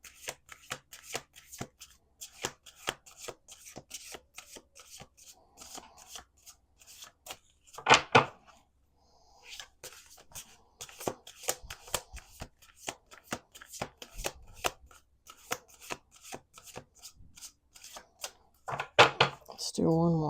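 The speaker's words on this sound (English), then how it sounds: "Let's do a couple more shuffles here." A deck of oracle cards is shuffled by hand, with repeated quick riffling flutters and taps close by and two louder bursts of shuffling, while a voice talks quietly between them.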